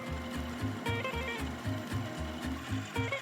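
Home sewing machine quilting layered patchwork fabric for an octagonal tea mat, its needle running in a steady, rapid mechanical rhythm of repeated stitch bursts, close and continuous, with no voices.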